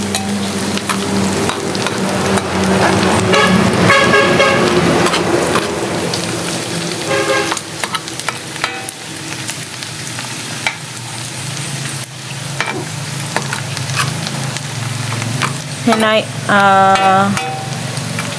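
Garlic fries in a pan for a dish of alamang with pork, a loud, busy sizzle with occasional stirring clatter, while horn-like tones and other noise sound intermittently in the background.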